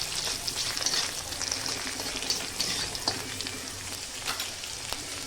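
Chopped garlic sizzling and frying in a hot pan as it is stirred, a steady continuous hiss with faint crackles and light scrapes, fairly quiet and alone.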